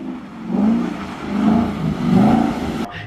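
A 2015 Ford Mustang GT engine revs in three rising and falling surges, loud and close, before cutting off abruptly near the end.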